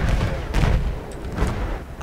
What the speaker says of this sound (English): Artillery already?